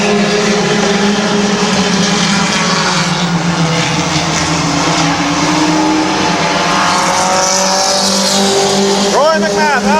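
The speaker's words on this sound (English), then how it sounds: "Josh Grove a Grove car and Josh Irwin side by side for 3rd" Race cars roar around Midvale Speedway in a loud, sustained engine din, several cars running close together, with a car passing near at the end and commentary over the noise.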